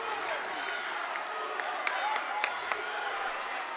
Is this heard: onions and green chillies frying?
no